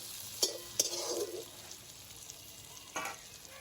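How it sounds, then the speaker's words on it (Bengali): Potato and onion fry in a pan while being browned for a katla fish-head and cabbage ghonto, giving a low sizzle with a few sharp stirring scrapes near the start and another near the end, no talk. "আলুটাও কিন্তু লাল লাল হয়ে যাবে এবং পেঁয়াজটাও কিন্তু লাল লাল করে ভাজা হয়ে যাবে।"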